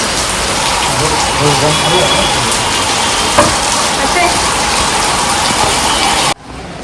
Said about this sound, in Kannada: ಮಳೆ ಜೋರ ಬರ್ತಿದೆ, ಚಳಿ ಆಗ್ತಿದೆ.